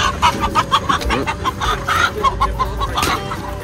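Chickens cluck busily inside a chicken coop in Kenya, with close, repeated short calls and squawks that overlap in a dense, irregular rhythm.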